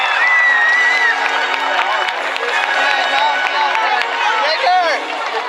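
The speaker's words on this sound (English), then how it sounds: "Let's give a big round of applause for our very wet, very cold volunteer." A crowd at a night orca show at SeaWorld San Diego applauds and cheers a soaked, cold volunteer, a steady wash of clapping and whoops with an announcer's voice running over it.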